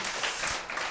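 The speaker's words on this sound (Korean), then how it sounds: "박수 해주세요. 네, 다시 한번." Applause from an audience at a Buddhist lecture, a short burst of dense, steady clapping filling the whole second.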